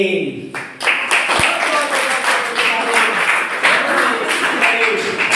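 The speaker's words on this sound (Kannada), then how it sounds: "ಅವರಿಗೆ ಅಭಿನಂದನೆ, ಚಪ್ಪಾಳೆ ಕೊಡಿ ಮೇಡಮ್." Classroom quiz audience applauds a correct answer in a physical education quiz activity, steady broadband clapping filling the room for several seconds, with talk faintly mixed in.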